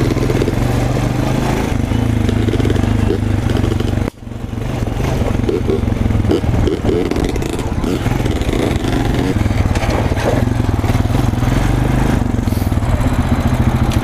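A four-wheeler ATV engine runs steadily and loud throughout, with a brief dip partway through before the rumbling drone resumes.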